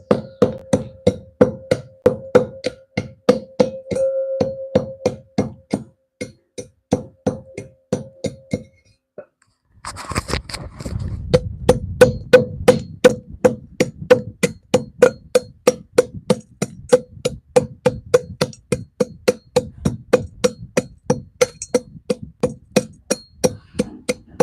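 Jarry incense resin is pounded into powder with a pestle in a mortar, giving a long run of sharp, regular, evenly spaced knocks. Striking briefly pauses, then resumes heavier and denser.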